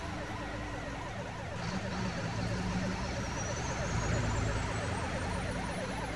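A police siren wails in the Wanted Raccoon video game, rising and falling steadily for several seconds over a dense layer of game background noise.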